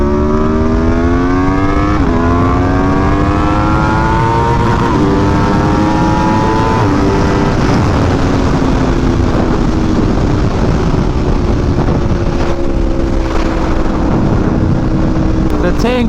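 An Aprilia RSV4 Factory motorcycle engine drones steadily while riding, its pitch climbing through the gears with short drops at each shift, loud and close over constant wind rush.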